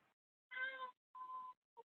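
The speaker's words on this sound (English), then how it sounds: "I hear Susan's cat." A domestic cat meows a few times in short separate calls, picked up faintly through an open microphone during an online housing Q&A meeting.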